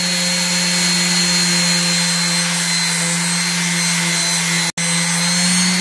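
Power sander with 240 grit abrasive working steel from a file being turned into a homemade PDR tool, giving a steady, loud, close whine with a humming drone and one momentary dropout near the end.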